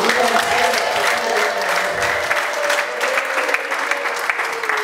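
A church congregation breaks into loud, sustained applause for God, dense clapping from many hands filling the room, with a faint sustained tone running beneath it.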